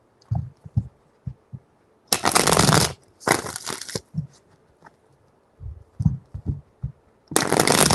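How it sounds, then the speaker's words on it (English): Tarot cards are shuffled in three loud riffling bursts close to the microphone, with soft taps and handling knocks of the deck in between. "Three shuffles."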